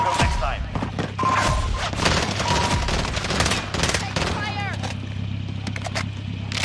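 Rapid bursts of automatic gunfire and heavy impacts ring out in a Call of Duty Warzone match, dense and loud, with players talking over the shooting.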